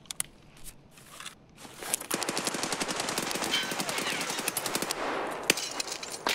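Gunfire in the video game Escape From Tarkov: after a few faint isolated sounds, a long, loud, rapid burst of automatic fire runs for about four seconds, with a single sharp shot near the end.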